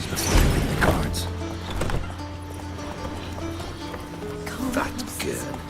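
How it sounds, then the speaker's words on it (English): Horses in The Witcher 3 video game give steady clip-clop hoof beats with a brief snort or whinny, mixed under game music and a talking voice. "Gotta calm all the horses before they leave the guards."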